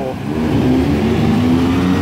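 Evening road traffic at the Thewet intersection on Samsen Road, Bangkok, with buses and cars: a steady, close engine rumble with a rising rev, and a voice faintly talking underneath.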